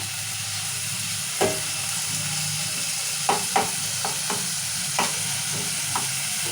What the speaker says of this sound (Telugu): ఉల్లిగడ్డ కూడా మంచిగా వేగాలి.